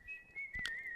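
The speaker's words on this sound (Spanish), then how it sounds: "el chico volvió a escuchar el mismo silbido." A sustained, steady whistled tone running through the whole moment, with a few faint thumps and some background noise beneath it.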